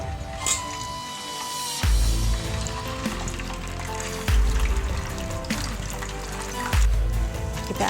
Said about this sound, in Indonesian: Kita akan goreng semua otak-otaknya guys.